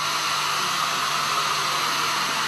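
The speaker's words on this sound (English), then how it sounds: "I'm going to use the hairdryer" A hair dryer blows steadily at close range to dry wet watercolour paint, a constant loud whooshing hiss that stays unbroken throughout with no talking.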